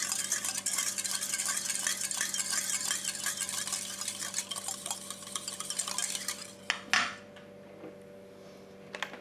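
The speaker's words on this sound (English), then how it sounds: "Stir that through" A cosmetic mist solution is stirred in a container, producing steady close scraping and clinking strokes over a faint electrical hum, ending with a couple of sharper knocks.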